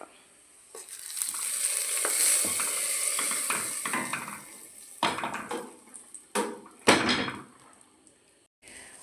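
Sliced onions and fenugreek seeds fry in hot oil for a curry tempering in a Kerala kitchen, a steady sizzle broken by sharp scrapes and clinks of a spoon against the pan, rising and falling in bursts.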